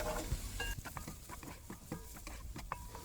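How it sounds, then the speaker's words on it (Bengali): Garlic frying lightly in butter in a pan for a tomato mushroom soup: a soft, close sizzle broken by repeated scraping stirs, with no voices. "রসুনটা একটু বেশ হালকা হালকা ভাজা করব"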